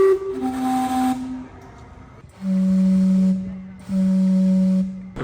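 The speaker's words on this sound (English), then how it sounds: "There was a steam vent just bursting out of the ground, and to make it safer, they decided to cap it with the steam clock." Steam clock in British Columbia, Canada, giving two long, loud whistle blasts with a steady tonal note, joined by hissing steam; an earlier, quieter whistle tone opens, then pauses before the blasts.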